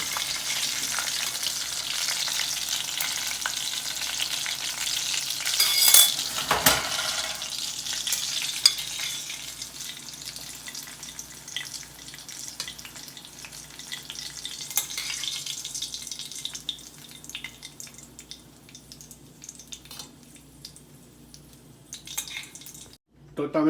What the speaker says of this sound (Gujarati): વઘાર ચમચીથી લઈને બધી બાજુ એક સરખું આપણે નાખી દીધો છે